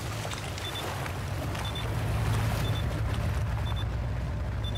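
A boat engine in the video game Battlefield 4 drones continuously with a low rumble under rushing water spray, loud and steady throughout with no pauses.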